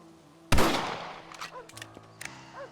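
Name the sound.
rifle shots in the video game Red Dead Redemption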